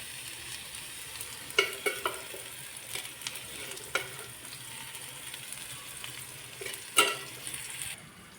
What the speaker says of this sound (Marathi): कांदा परतायला ठेवलेला आहे त्यामध्ये एक ते दीड पळी तेल घालू